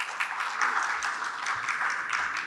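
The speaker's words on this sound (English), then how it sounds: "Clap of hands" Audience applause greets a panelist walking onstage at a women-in-tech panel at a technology congress, a steady, moderately distant wash of clapping lasting the whole stretch without talk.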